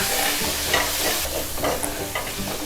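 Chopped tomatoes being sautéed and stirred in a pan for Dhaba-style rajma masala, with a steady close sizzle and scraping stir strokes throughout, no voices.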